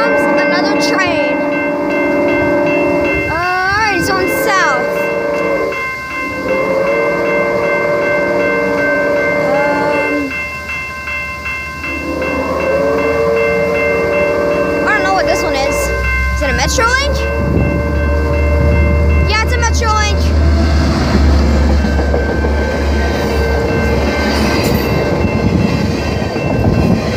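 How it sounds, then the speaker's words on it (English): A passing train at a railside spot watched by a railfan, with a horn sounding in repeated sustained blasts, a crossing bell, and the rumbling roll of cars growing louder and closer near the end, with someone talking faintly underneath. "here comes another train"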